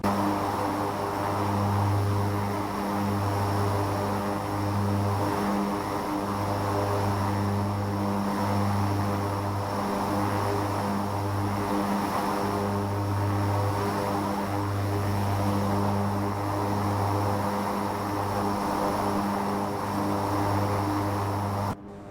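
Steady drone of a Beechcraft King Air 350 twin turboprop in flight, engine hum and propeller buzz continuous and close, with a pulsing low throb as the propellers beat against each other throughout.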